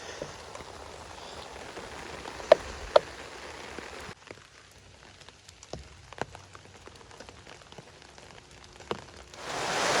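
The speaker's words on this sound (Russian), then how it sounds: "дождь пока совсем не хочет прекращаться. Полил он с новой силой." Steady heavy rain pours down in a foggy forest, hissing on surfaces with occasional louder drips and taps, swelling heavier toward the end.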